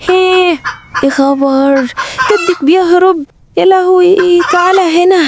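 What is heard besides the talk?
rooster clucking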